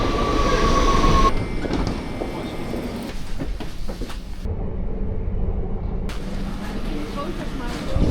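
Train ride into Amsterdam Central, a steady rumbling rail-car interior with wheel and carriage noise running throughout, fairly loud and continuous, with brief shifts in tone as the train moves.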